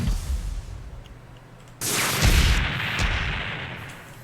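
A giant energy-ball special attack goes off in a video game, starting with a low rumbling buildup and then erupting into a sudden loud, sustained blast with a deep boom that lingers and slowly fades, with no talk.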